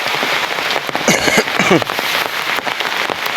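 Heavy rain falls steadily on a street and patters on an umbrella, a dense close hiss with scattered sharper drop hits throughout.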